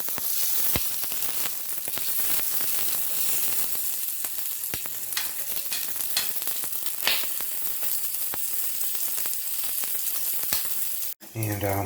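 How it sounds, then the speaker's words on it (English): Sausage links fry in a pan and crackle with a steady, dense sizzle full of sharp pops. Near the end comes a brief clunk and then a short change in sound. "I just have to fry them up around all the sides so they get kind of crispy."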